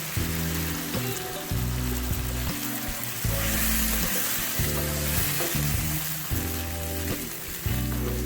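Half a cup of water poured into meat frying with cauliflower in a pan gives a loud, continuous sizzle and crackle, with stirring clatter recurring through it.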